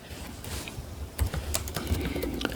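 Typing on the regular keyboard of an Asus Vivobook S15 laptop, a steady run of soft, close key clicks and taps with a few louder strokes, no voices.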